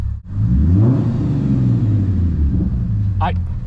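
Naturally aspirated 3.5 liter V6 of a 2013 Lexus IS350 revving, a loud steady rumble and drone that holds throughout with a brief dip near the start, heard close under someone talking.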